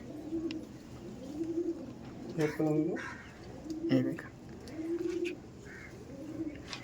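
Pigeons from a high-flying breed coo in repeated soft, low rolling phrases close by, with brief bursts of voices and handling noise breaking in between the calls.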